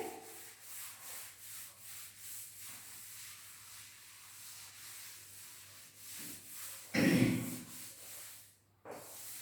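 An eraser or cloth rubs writing off a board in a lecture room, giving a soft, steady scrubbing hiss in quick back-and-forth strokes, close and fairly quiet, with a brief louder bump near the end.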